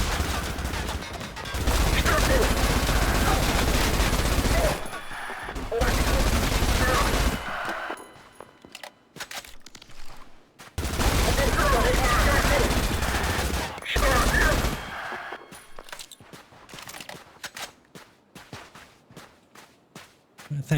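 Heavy SMG fire in the video game ADACA Zone Patrol comes in long dense bursts of rapid shots, separated by quieter stretches of footsteps and scattered lone shots, loud and close with someone talking in places.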